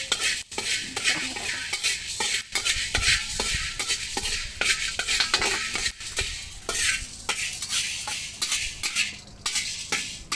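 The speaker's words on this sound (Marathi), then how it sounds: "दालचिनी आणि मिऱ्याला नॉर्मलच भाजून घ्यायचं, जास्त पण नाही भाजायचं।" Cinnamon and black pepper roast in oil for Maharashtrian kala masala, the spoon stirring and scraping repeatedly against the pan in a busy rhythm over a soft, continuous sizzle, close up and without voices.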